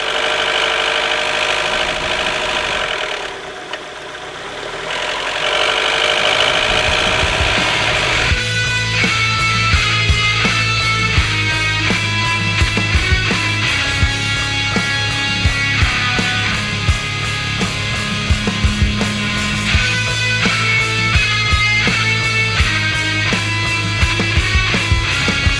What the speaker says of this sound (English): I've now got the most dreaded issue: a rattle from my engine.